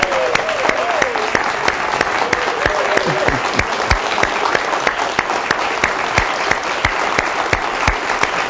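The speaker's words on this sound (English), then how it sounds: "how about a big cheer from the winners here in the studio today?" A studio audience of winners claps steadily and loudly throughout, dense applause with occasional sharper claps standing out, and a voice briefly heard over it early on.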